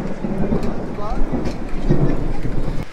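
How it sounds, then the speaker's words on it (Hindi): Heavy monsoon rain pouring down outside at a college campus, a steady dense hiss and rumble that stays loud throughout, with a faint voice briefly under it. "बाहर जो बहुत ज़ोर से बारिश हो रहा है"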